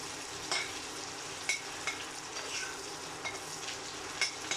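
Bitter gourd frying in hot mustard oil, a continuous crackling sizzle with periodic louder pops and spatters, close and steady throughout, no talking.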